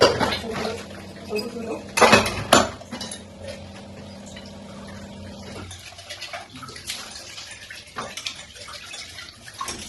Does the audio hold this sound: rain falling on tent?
no